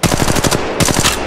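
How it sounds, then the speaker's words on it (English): Enemy gunfire in a video game, a rapid loud burst of automatic shots, a brief gap, then another burst, close and harsh. "The enemies are shooting at me!"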